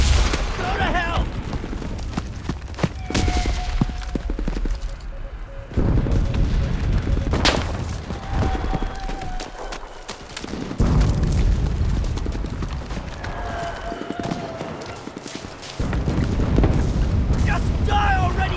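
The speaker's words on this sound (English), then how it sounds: "Calling in artillery! Copy. Confirming fire." Artillery barrage in the World War II shooter Enlisted: heavy booming blasts and rumbling explosions roll on almost without pause, mixed with nearby rifle shots and battlefield noise, while voices call out over the din.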